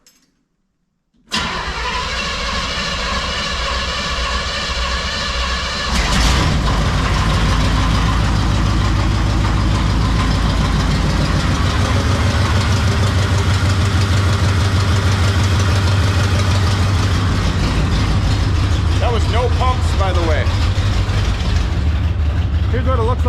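Square-body truck engine, parked in a barn for years, cranks and fires after a silent start, then settles into a loud, steady rough idle that runs on to the end, with a brief voice near the close.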